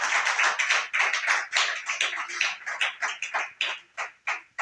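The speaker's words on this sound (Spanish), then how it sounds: "Dale un aplauso a Cristo" A church congregation claps in a steady burst of applause, many hands close and lively, with the clapping thinning into fewer separate claps as it fades toward the end.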